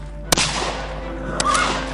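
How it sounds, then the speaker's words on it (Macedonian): Two sharp, loud cracks like gunshots, one early and a second about a second later, over a steady background hiss. "неочекувано од заседа кон Јане Сандански започнале да бидат испукувани истрели."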